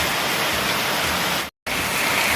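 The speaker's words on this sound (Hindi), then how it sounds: "बारिश होने लगी है और देखो बहुत तगड़ी बारिश हो रही है।" Heavy rain pours down steadily on the way to college, a dense, loud hiss filling the scene, broken by a brief silent gap, with no voices.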